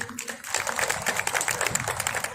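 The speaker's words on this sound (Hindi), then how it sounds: "एक बार तालियां हो जाइए।" An audience at a poetry recital for Maharana Pratap Jayanti claps in steady, dense applause for a couple of seconds, filling the space with a continuous crackle of many hands.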